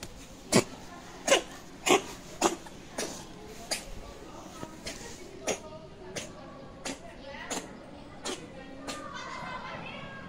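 A white cat coughs in a series of short, sharp hacking bursts spaced about half a second apart, close by, with a voice speaking faintly in the background.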